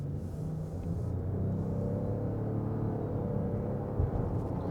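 A low, steady engine rumble from inside a moving 2020 Lexus RX 450h hybrid SUV, smooth and constant with a slight swell near the end.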